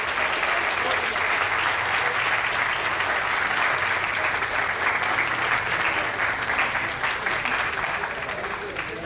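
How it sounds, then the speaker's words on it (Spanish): At a Linux security talk, an audience gives sustained, loud applause for several seconds, dense and even throughout before tapering slightly. "Vamos a darle un fuerte aplauso y muchas gracias."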